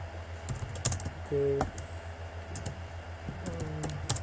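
Close, rapid clicking on a computer keyboard while C++ code is typed, irregular keystrokes with short pauses, plus a few electronic tones and a brief spoken word.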